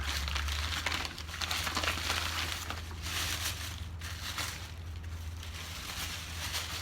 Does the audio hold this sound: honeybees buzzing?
no